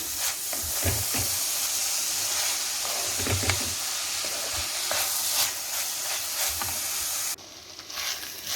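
Onions sautéing in a pan for crab thoran, a steady close sizzle with scraping stir strokes throughout, easing off sharply near the end.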